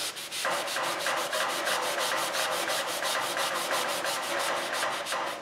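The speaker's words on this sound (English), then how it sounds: "distress it and sand and just do it randomly all over the place" Hand sanding of a chalk-painted wooden headboard to distress the finish, a steady run of quick rhythmic abrasive strokes, close and fairly loud, with no talking.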